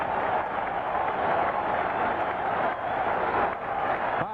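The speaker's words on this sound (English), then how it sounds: "This crowd's going crazy." A baseball stadium crowd at a 1982 Mariners game roars in a continuous, dense wash of cheering that holds steady throughout at a distance.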